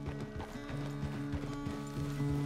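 Horse hooves clip-clopping at a steady walking rhythm in the Red Dead Redemption 2 video game, with a continuous ambient background and no voices.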